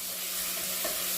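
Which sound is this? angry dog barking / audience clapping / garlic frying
garlic frying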